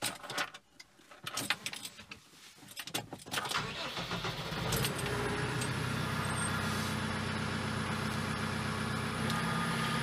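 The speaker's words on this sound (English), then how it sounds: "But I will start right now with the tractor." A tractor working with a Clemens EASYFIX shoot binder cranks over after a few clicks and rattles, then catches and settles into a steady, loud diesel idle that runs to the end, with no talking.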